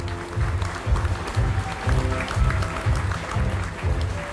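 Applause for the party flag at a Korean party convention attended by thousands of delegates, a steady, dense clapping that stays loud and continuous throughout, with rhythmic low thumps pulsing underneath.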